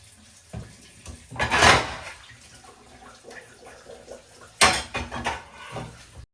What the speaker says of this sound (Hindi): हर बर्तन मैंने जल्दी जल्दी धो लिए थे